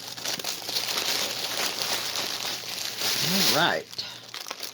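A plastic mailer bag holding craft kits being torn open, with a steady crinkling rustle building to a louder tearing burst near the end, close and quiet, with a brief spoken word.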